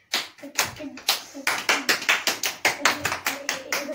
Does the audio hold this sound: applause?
yes